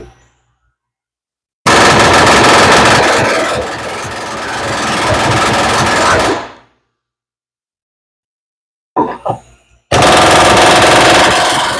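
Rapid, loud pneumatic hammering pounds on bolts to drive out the rear wheel bearing of a 2019 Subaru Forester: a long five-second burst, silence, a couple of brief stabs, then another sustained burst.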